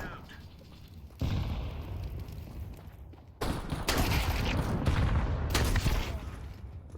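Bursts of gunfire and a heavy blast, like a grenade explosion, erupt in a video game firefight: a sudden loud burst, then a bigger, denser barrage of shots and booms that stays loud to the end.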